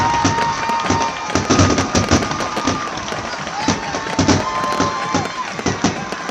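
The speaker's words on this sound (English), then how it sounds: "So we got fireworks outside the field, and Ryan, here in about 60 seconds, there's" Fireworks go off outside a high school football field at a Stigler vs Lincoln Christian game, with repeated sharp bangs and crackling bursts in quick, irregular succession over a murmuring crowd and occasional voices.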